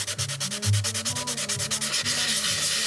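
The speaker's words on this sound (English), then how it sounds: "And I've been trying to dry sand that area until a decal is," Close, steady dry sanding on a model airplane's tail near the decals, a rhythmic back-and-forth rasp of abrasive strokes repeating quickly and evenly for about three seconds with no talk.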